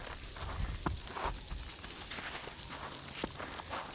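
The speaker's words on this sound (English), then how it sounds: "It feels like rain, but there's little balls of ice." Sleet of small ice pellets falling outdoors at a small cabin in winter, a faint, steady patter with scattered sharper ticks and a few soft crunching steps.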